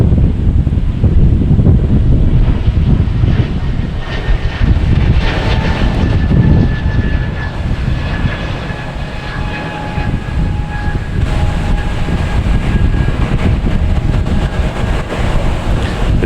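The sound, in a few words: JetBlue A220 airliner arriving at Boston Logan Airport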